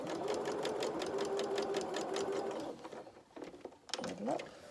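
A sewing machine chain-pieces fabric pieces in a rapid, steady stitching run that stops partway, followed by brief handling noises and a voice.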